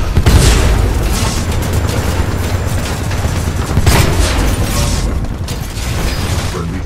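In Titanfall 2 multiplayer a Titan drops in with heavy, loud mechanical booms and crashing impacts, followed by grinding machinery and gunfire-like bursts over several seconds.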